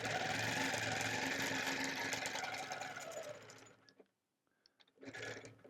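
A sewing machine stitches through a quilt in a close, steady whirring run of nearly four seconds, stops briefly with a few soft clicks, then starts again in a short burst.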